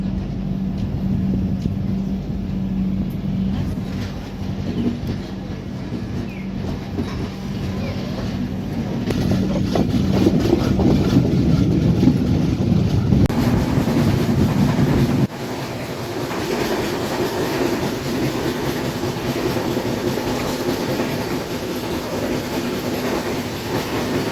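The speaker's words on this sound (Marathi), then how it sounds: "खेड रेल्वे स्टेशनवरून आपली ट्रेन जी आहे ती निघालेली आहे" Mandovi Express on the Konkan Railway pulling out of Khed station in monsoon, a steady loud rumble of carriages with rhythmic wheel clatter building as it gathers speed, the tone shifting partway through.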